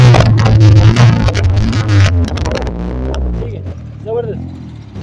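A car engine and exhaust rumble nearby, the low drone strongest early and fading, while someone talks over it for much of the time.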